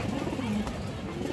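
A jaakgola female pigeon of an old bloodline coos briefly and close by, a couple of soft low throaty notes over steady background noise.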